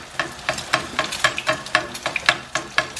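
Egg crisping in a hot pan of oil while cooking Pad Krapow, a rhythmic series of sizzling spatters and stirring scrapes roughly every half second, close and moderately loud with no talking.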